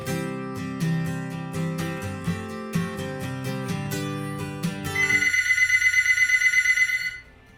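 A telephone rings with a repeating melodic ringtone for several seconds, then switches to a rapid buzzing trill before cutting off, loud and close with no talk.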